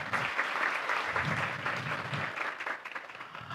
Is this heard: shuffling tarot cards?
no